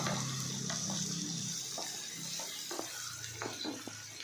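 Onions sautéing in a pan, a steady soft sizzle with occasional light scraping clicks of a spatula, close and continuous throughout.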